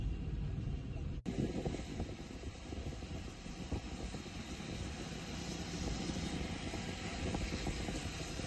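Strong wind gusts during rain in Jaipur, a steady broad rush of air buffeting the microphone, loud and continuous for several seconds with a sharp brief dip early on.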